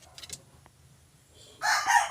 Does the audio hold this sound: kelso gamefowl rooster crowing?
yes